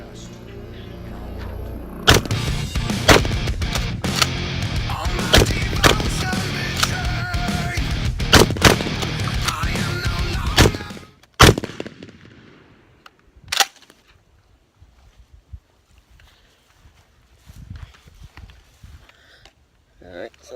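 A DP-12 double-barrel pump shotgun fires Remington managed recoil slugs: a dense run of loud, sharp blasts over several seconds, then a few isolated reports, with people talking.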